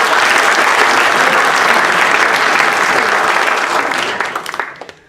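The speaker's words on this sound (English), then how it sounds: "That little clap." Sustained audience applause fills a talk event hall, loud and dense, then thins to a few scattered claps as it dies out at the end.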